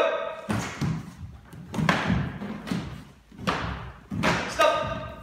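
Sports swords strike during a sparring drill, with a series of sharp hard thuds and clacks in quick bursts, roughly five impacts in irregular rhythm, close and fairly loud.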